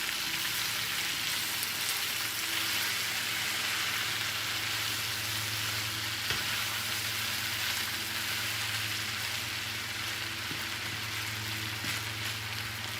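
Potatoes for a country skillet fry in a pan with a steady, even sizzle and hiss that runs throughout at a moderate level, with occasional faint stirring scrapes and no voices.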